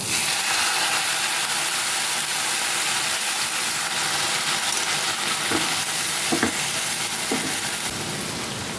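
Boiled lentils go into a pan of frying tomato masala for achari dal and get stirred, giving a loud, continuous sizzle with a few scraping stir sounds near the end and no talking.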